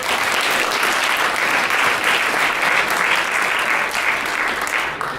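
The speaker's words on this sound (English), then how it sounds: "So I want you to applaud yourselves." Audience at a 2018 Democratic candidate forum for Pennsylvania's 17th district breaking into loud, sustained clapping that holds steady for several seconds before easing slightly at the end.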